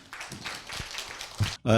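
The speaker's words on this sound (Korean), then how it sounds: "여러분 큰 환영의 박수 부탁드립니다" Audience applause greets a professor taking the podium for a humanities lecture on Chaucer's Canterbury Tales, a steady wash of clapping that cuts off briefly before a voice begins speaking.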